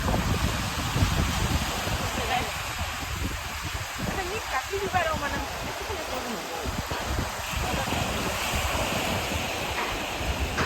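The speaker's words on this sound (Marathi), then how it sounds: "पाठीमागे बघू शकताय सुंदर समुद्र किनारो" Continuous broadband rush of surf breaking along a shore, steady and fairly loud, mixed with wind buffeting the microphone.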